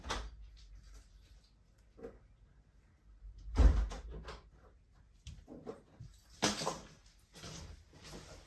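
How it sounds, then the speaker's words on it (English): A door is handled nearby during a puffer jacket review: quiet rustles lead to a sharp knock or bump midway, then more sliding and clunking sounds close to the end, with no voices. "It's a door right at the end of the video."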